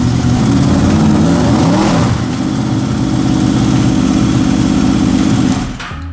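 A Honda VFR800 motorcycle engine runs loud and close as the throttle is blipped, a steady high-revving drone that rises and holds before easing off near the end.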